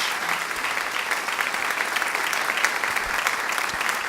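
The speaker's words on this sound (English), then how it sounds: "Let's give our panelists a round of applause." Sustained audience applause for panelists at a breakfast event with Arizona's governor and ASU's president, a dense, steady wash of clapping from a large room that holds evenly for the whole stretch.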